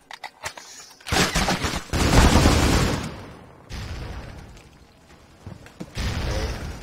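A grenade goes off in a competitive team shooter scrim, heard as a loud, close, broadband blast and rumbling roar after a few sharp clicks, followed by a quieter lull and a second swell of noise.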